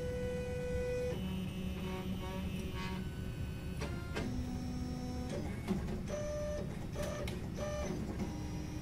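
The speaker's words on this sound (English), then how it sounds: "the extruder head will measure the height of the turntable and compensate for any" A ZEUS 3D printer's extruder head auto-probes the turntable height, its stepper motors giving shifting whines and tones in short moves with clicks between them, close and steady under a constant low background hum.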